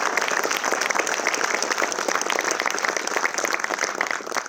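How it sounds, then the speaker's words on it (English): Steady, dense applause from a theater audience after a film screening, loud and sustained throughout with no voices standing out. "Should we give it another round of applause?"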